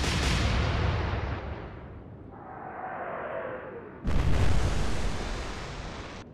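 Battleship turret guns fire in the naval game Atlantic Fleet, opening with a heavy booming blast that rumbles and fades, then a second loud salvo crashes in and rolls on, with no talk over it.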